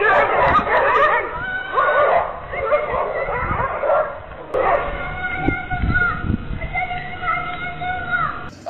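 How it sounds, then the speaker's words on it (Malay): Three dogs bark and lunge in an attack on a boy, with rapid, loud barking and yelping plus whimpering cries. Voices mix in under the commotion for the whole stretch. "Tak semena-mena dia diserang 3 ekor anjing."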